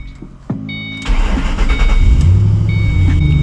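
A 3V Ford Mustang GT with freshly rebuilt front suspension cranks and starts up, its engine catching with a loud, near rumble that settles into a steady, throaty idle; no talk.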